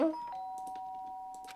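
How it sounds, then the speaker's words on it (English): A doorbell chime rings in the video game Danganronpa: Trigger Happy Havoc, a loud bright two-tone ding at the start that decays into a sustained ringing tone, followed by faint soft game sounds. "The sharp sound of the doorbell pierced my sleepy haze and pulled me back to the real world."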